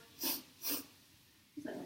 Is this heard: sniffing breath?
yes